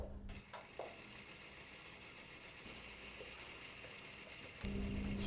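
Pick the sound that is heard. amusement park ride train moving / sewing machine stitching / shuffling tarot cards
sewing machine stitching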